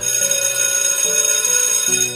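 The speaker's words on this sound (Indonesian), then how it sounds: "Suara bel sekolahan menandakan jam istirahat telah usai" School bell ringing at the end of recess, a bright electronic tone that repeats in three steady pulses, loud and alone.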